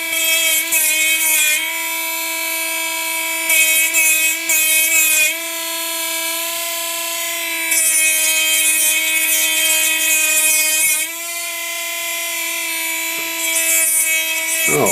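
A cheap Chinese mini grinder/engraver runs continuously at high speed, a loud steady whine with bright harmonics that grows grittier in bursts as it bites into work while deburring.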